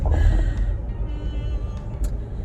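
A car driving along, its low road rumble and engine hum steady and close throughout, with a few faint tonal squeaks and clicks from inside the vehicle on top.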